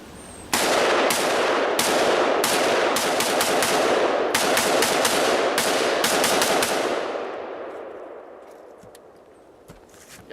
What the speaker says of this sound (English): Little shotgun destruction to finish them off with.